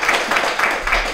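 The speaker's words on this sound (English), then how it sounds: "give them a round of applause" Applause from a school audience for a sixth-grade spelling bee champion, a steady wash of clapping that swells in soft pulses through the short stretch, moderately loud and without talk.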